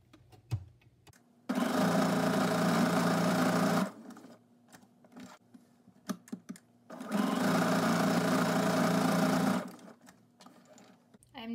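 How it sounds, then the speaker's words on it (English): A sewing machine stitching down the middle of a piece of fabric runs in two steady whirring bursts of a couple of seconds each, separated by quiet pauses with small handling clicks and rustles. "We will sew right down the middle of this."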